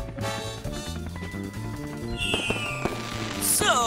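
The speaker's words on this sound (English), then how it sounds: "Packed into the top of the firework are metal salts called stars." Fireworks burst in the air amid bright background music, with crackling pops and a rising whistle near the end, all mixed under the cheerful score.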